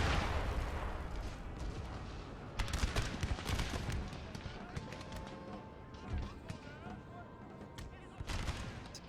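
Cannon volleys and musket fire roar through a Napoleon: Total War battle, repeated booming bursts and crackling shots layered over each other at varying distances, with someone talking over much of it.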